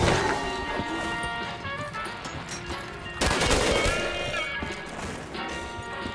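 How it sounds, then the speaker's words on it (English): SMG fire in Call of Duty Black Ops 3 Zombies on the Kino Der Toten map, sounding as rapid, continuous automatic bursts with a heavy burst midway, layered over dense in-game effects and music. "With this SMG, I bring death!"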